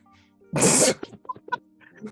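One sharp, loud sneeze bursts out, followed by quieter speech nearby.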